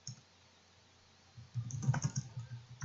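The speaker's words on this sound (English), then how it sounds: "we're going to cheat and just type in our score" A short burst of clicky keystrokes on a computer keyboard as a score is typed in, close and fairly quiet, following a near-silent pause.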